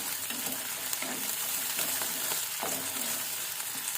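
Cashews and green chillies fry in hot oil in a pan, a steady close sizzle with faint stirring scrapes running continuously throughout.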